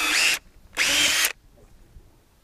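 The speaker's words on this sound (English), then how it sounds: "take a drill, have this thing hopefully not follow me, and go ahead and drill these holes out" A power drill boring holes in a mat, two loud whirring bursts close up, the second one longer, then near silence.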